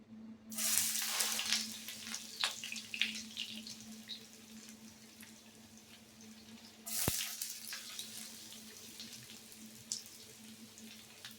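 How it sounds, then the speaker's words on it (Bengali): Chopped garlic hitting a small amount of hot oil for chilli chicken, bursting into a sharp sizzle that settles into a steady faint crackle, with a second loud sizzle flare partway through and a quiet background hum. "তেলের মধ্যে প্রথমে আমি দেব রসুন কুচি"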